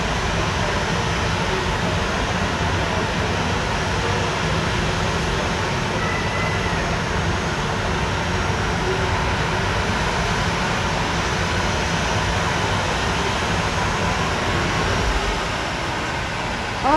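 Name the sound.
Boeing 737-700 aircraft engine running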